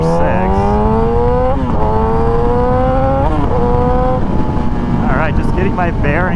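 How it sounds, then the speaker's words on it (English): A 2020 new-generation Yamaha YZF R6 sport motorcycle is ridden, its engine whining upward through rising revs with brief dips at gear changes and steady wind rush over the microphone throughout. "we are now on the 2020 new generation Yamaha R6."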